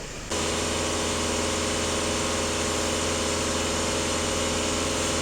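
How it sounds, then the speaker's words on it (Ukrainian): VW Passat 2.0 TDI diesel engine with AdBlue held at full throttle, a sudden loud, steady, dense roar that starts abruptly and stays constant throughout, up close. "Так, даю газ в пол."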